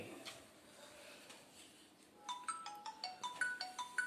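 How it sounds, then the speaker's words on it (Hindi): A phone ringtone starts partway through, a bright repeating electronic melody of short tones, fairly clear after a quieter stretch of background noise. "इसका फोन आ गया।"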